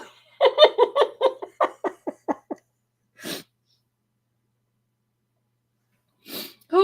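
A run of quick, bursting giggles tumbles out close up, then two isolated sharp, breathy sneeze-like bursts follow after silent gaps.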